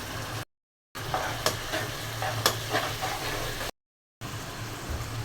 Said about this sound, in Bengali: এখন পানি দিয়ে দিচ্ছি। মশলাটা কষিয়ে নিব।